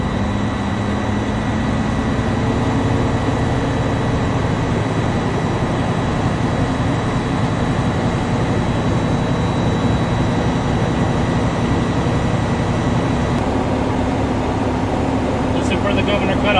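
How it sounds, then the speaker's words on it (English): A truck's diesel engine held at raised revs, below 1500 RPM, to build air brake pressure during a pre-trip inspection; a loud, steady drone runs throughout with someone talking over it. "Now that we got the truck started, we're gonna go ahead and rev it up."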